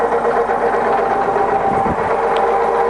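The head of a Lagun FU.1-LA universal milling machine runs at about 400 RPM, giving a loud, steady mechanical hum and whine with a faint rumble partway through; no one speaks.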